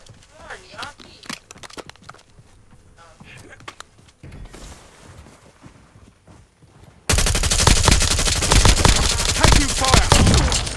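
Gunfire in the video game Call of Duty: Warzone: scattered shots and game voice lines give way to a loud, dense burst of rapid automatic fire that continues to the end.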